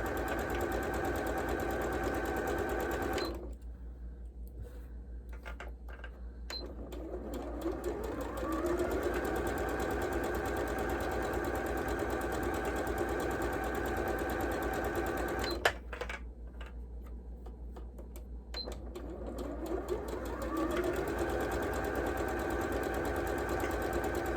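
Sewing machine running steadily up close while piecing triangle sets for a Shoo Fly quilt block, two long stitching runs broken by a short pause, no talk.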